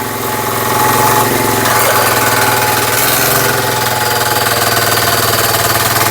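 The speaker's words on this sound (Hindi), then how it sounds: "और ये किस तरीके से मिट्टी ये गन्ने पे चढ़ा रही है मशीन" A rotary machine earthing up soil onto trench-planted sugarcane in a field makes a loud, steady, close engine drone with a rhythmic mechanical throb and rattling vibration throughout.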